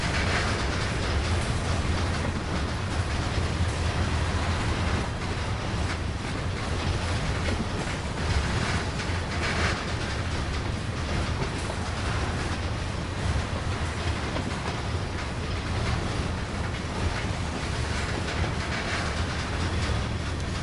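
A train shunting in the Train Sim World game: a steady, moderately quiet rumble of rolling stock and engine with faint rhythmic clicks, continuous for about twenty seconds with no voices.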